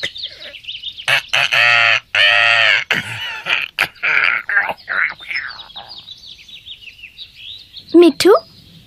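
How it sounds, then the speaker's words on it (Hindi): A cartoon parrot calls out in a loud, harmonic squawking voice, several long bursts in a row followed by a shorter squawk near the end. "ओ तोता बहुत प्यारा है।"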